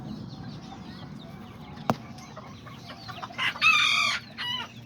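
Aztec and serama chickens cluck steadily in the background while a white rooster lets out a loud crow near the end, with one sharp knock partway through.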